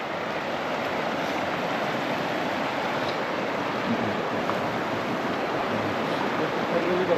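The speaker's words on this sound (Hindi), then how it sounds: "ये देखो साउंड, ये नदी का पानी बर्फ जम चुका है भाई" A river, partly frozen over with ice, rushes in a steady, loud, continuous roar of flowing water throughout, with no clear talk over it.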